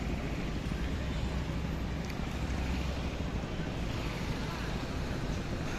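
A boat moving along a river on a route in Barguna, heard as a steady broadband rumble mixed with wind buffeting and water noise, continuous and fairly loud throughout.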